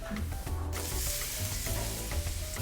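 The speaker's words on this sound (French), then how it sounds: "faire bien suer les oignons" Coarsely chopped onion sweating in generous olive oil for a lentil purée, a steady close sizzle with soft stirring knocks and scrapes in the pan, moderately quiet.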